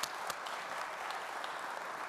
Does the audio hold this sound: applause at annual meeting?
yes